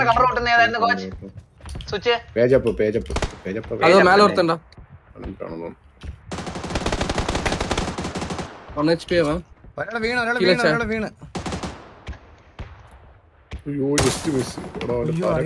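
Bursts of rapid automatic gunfire ring out in a PUBG squad match, the heaviest volley running a few seconds mid-clip. Several players talk excitedly before and after the shooting.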